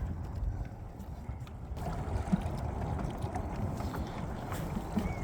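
Water churns steadily around an Old Town Salty 120 pedal drive kayak moving across a small lake, with a constant low wash and some wind buffeting throughout, no voices.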